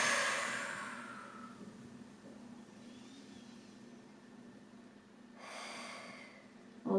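A long breath out during a thigh, abs and glutes workout, a soft airy exhale fading over a couple of seconds, followed by a second breathy puff, close and alone against faint background hum.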